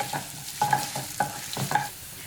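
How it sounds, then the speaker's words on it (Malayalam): Chopped ginger frying in a pan, stirred with a spatula in rhythmic scraping strokes over a steady soft sizzle, close up and fairly quiet. "നന്നായിട്ടൊന്ന് ഇളക്കി കൊടുക്കാം. ഈ ഇഞ്ചിന് ചെറുതായിട്ടൊന്ന് ഫ്രൈ ആയിട്ട് വരട്ടെ."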